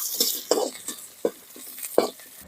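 Whole spices stirred and dry-roasting in a pan for green gram dal sambar, a handful of sharp scraping stirs at uneven intervals over a faint sizzle, close and fairly quiet with no talk.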